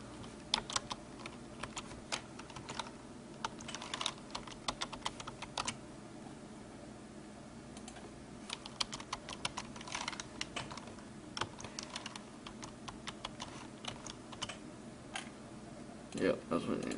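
A password is typed on a computer keyboard: quiet, irregular bursts of key clicks come and go across the whole stretch, close but soft, with brief pauses between runs.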